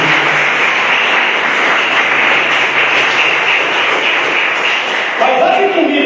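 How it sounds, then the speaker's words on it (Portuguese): A church congregation applauds during a worship service, a dense, steady wash of many hands clapping that fills the room continuously and stays loud throughout. "Palmas para ele."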